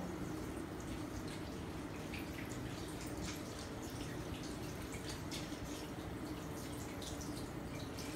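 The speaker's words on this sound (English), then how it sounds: "Rinse hands with water." Tap water runs steadily for hand rinsing, a soft continuous splashing stream with scattered drips, faint and unbroken.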